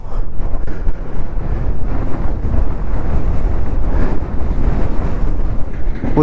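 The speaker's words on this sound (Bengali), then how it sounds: "প্রচণ্ড হাওয়া হচ্ছে, বুঝলি?" Strong wind roars across a mountain road toward Dhumba Lake in Mustang during a motorbike ride, with loud, continuous low buffeting and rumble on the microphone.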